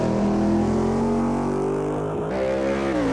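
A modded race car in Automobilista 2 with a deep, raspy engine holds a steady loud drone, then shifts and climbs again near the end, heard alone without talk.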